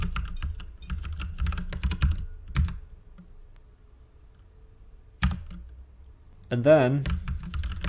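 Keys clatter in quick bursts on a computer keyboard as code is typed, close and crisp, with pauses between runs and someone talking briefly over it.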